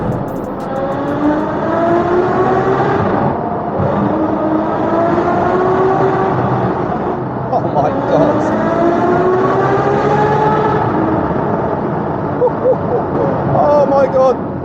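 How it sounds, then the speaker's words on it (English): V12 car engine driving through a tunnel, loud and close, with rising revs that swell and fall in two long sweeps, echoing off the walls, with a voice speaking briefly near the end. "Oh my god, this car sounds too good."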